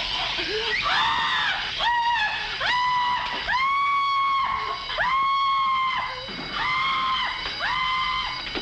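Repeated high-pitched screams from a cashier in a 1950s TV crime drama, about six sustained shrill bursts with short gaps between them, loud and close, with no talking.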